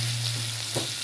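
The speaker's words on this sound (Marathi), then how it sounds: "मीठ हळद टाकल्यानंतर मी थोडासा परतून घेणार" Green chillies sautéing in a pan with salt and turmeric give a brief, steady close sizzle with a faint stir scrape near the end.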